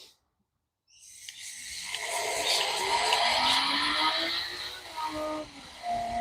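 A Porsche Carrera hybrid pulls away after a brief silence, its engine note rising into a loud, sustained drive-off with shifting tonal whine and revving that eases slightly near the end.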